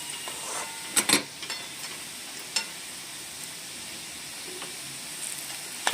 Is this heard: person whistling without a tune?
no